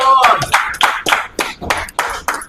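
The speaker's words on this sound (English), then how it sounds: "So many of the Kenyan spectators are applauding that, even the Ugandans have applauded that" Kenyan and Ugandan spectators applaud a finishing shot in a Yegon vs Ibra match, with sharp bursts of clapping in a loose repeated rhythm, loud and near.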